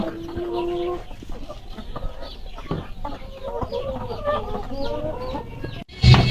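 Layer hens on a poultry farm cluck and call steadily at close range, with a sudden loud bump near the end.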